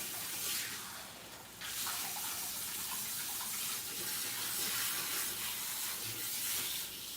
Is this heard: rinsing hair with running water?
yes